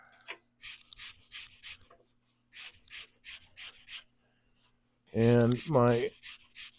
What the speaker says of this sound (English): of sanding in one direction